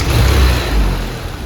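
A tuned Dillion's F24 car engine runs loud and steady with a deep rumbling hum, close by, holding an even idle with slight rises and dips.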